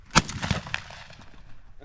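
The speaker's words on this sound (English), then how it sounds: "I have him shooting." A single shotgun blast rings out during an outdoor dove hunt, a sharp loud crack followed by a fading tail, with a softer thump shortly after and quiet field ambience.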